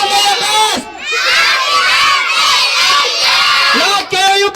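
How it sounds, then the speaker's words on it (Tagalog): A crowd of children at a first birthday party shouts loudly together in a sustained, cheering roar, dipping briefly twice before surging back up. "Mga bata, let's shout."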